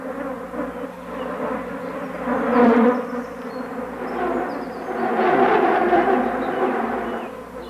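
Flies buzzing around a mushroom, a close, continuous droning hum that swells twice, around the middle and again toward the end, with no voices.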